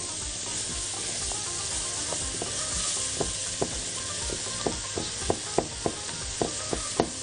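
Stock cubes and grated carrot are stirred in a cooking pot with potatoes over a constant close sizzle, with sharp spoon scrapes and clinks growing more frequent toward the end.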